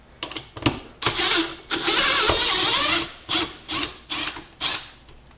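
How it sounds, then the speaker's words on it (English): A corroded bottom screw is backed out of a wall near a plumbing pipe, giving a run of close, loud ratcheting and mechanical grinding bursts, with a long continuous stretch followed by several short repeated pulls. "So I'm going to take this bottom screw out"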